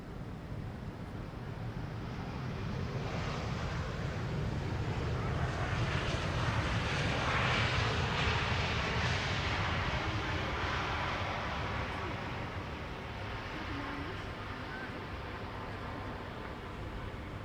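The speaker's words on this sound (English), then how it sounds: "There are 2 airplanes arriving from Boston and from San Francisco respectively." Arriving airliners at Amsterdam Schiphol Airport, a broad distant jet roar that swells to a peak around the middle and slowly fades, steady and rushing with no voices.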